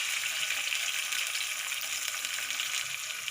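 Onions fry in hot oil in a pressure cooker, giving a steady, dense hiss and sizzle that stays loud and even throughout. Close up, with no talking.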